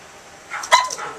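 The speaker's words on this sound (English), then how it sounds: "Cookie's outside barking, and Izzy's going nuts" A dog barks once outside, a short sharp yelp-like bark rising out of quiet room tone, with faint rustling after it.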